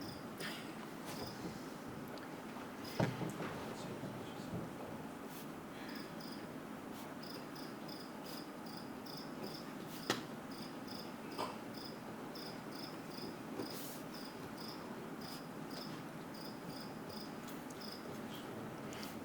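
Crickets chirp steadily in the background behind a meeting participant, a faint, continuous high trilling with a few scattered knocks and clicks.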